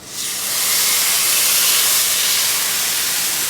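Duck breast laid skin-side down in a dry pan with no fat, bursting into a loud, close, steady sizzling hiss that rises quickly and holds.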